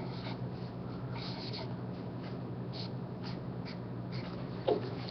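A pencil scratches across paper in short, soft strokes, close and fairly faint against a steady background hum, with a small tap near the end.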